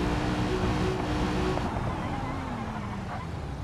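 Steady, droning engine hum from a car losing power in BeamNG.drive, a continuous rough note that sags and thins slightly over time, with wind-like noise mixed in.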